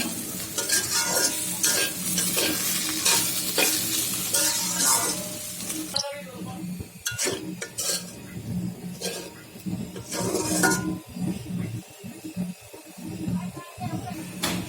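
Potato bhaji (spiced fried potatoes) sizzles in a frying pan while being stirred, with steady frying hiss and repeated scraping of the utensil against the pan; stirring sounds come close and fairly loud, under some background noise.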